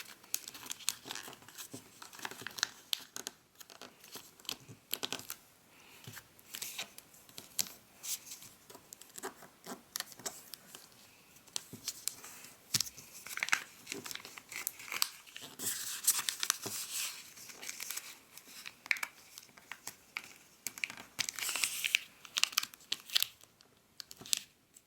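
A sheet of paper is folded into an origami tie, with soft crinkling, creasing and rustling in irregular bursts, close and fairly quiet, continuing throughout without talk.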